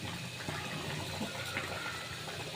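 Potato curry boiling in a pot in a home kitchen, a dense continuous bubbling and watery churn, close and steady, with no voices.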